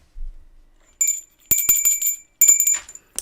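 A notification bell sound effect rings out in bright, clear dings: one around the first second, then a quick cluster of strikes, and a final pair near the end, each sharp and resonant with no talking over them.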